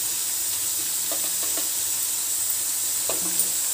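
Tomato masala with turmeric frying and being stirred in a pan, a steady close hiss of sizzling with occasional soft scraping strokes.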